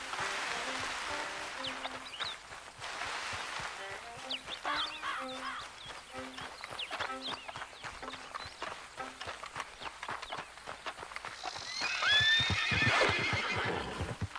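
In the video game Red Dead Redemption 2, a horse whinnies several times while its hooves clop along steadily, and a louder snort or neigh rises near the end.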